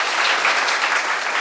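Audience applause in a lecture hall, a dense, steady burst of clapping from many hands, loud and continuous without pause.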